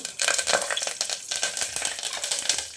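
Crackling, spitting sizzle of curry leaves hitting hot coconut oil, loud and close, with irregular pops and a bit of stirring throughout.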